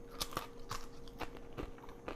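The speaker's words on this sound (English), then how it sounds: "crunchy on the edges and in the middle" Crisp crunching bites into the browned edge of a homemade thin-crust sourdough pizza, five or six sharp crackling bites spaced evenly and close to the mic, with no talking.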